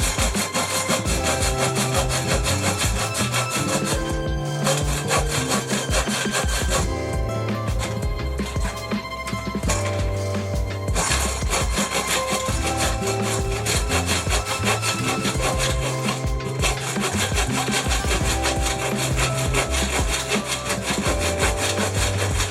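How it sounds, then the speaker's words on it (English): A hand saw cuts through wood on a workbench with continuous rhythmic rasping strokes, loud and close, with a few brief pauses between bursts of sawing. "I'm going to move this saw out of the way"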